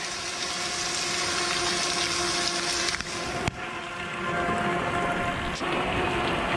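Heavy rain pours steadily and loudly in extreme weather, a dense, continuous hiss with a couple of sharp knocks, and no voices.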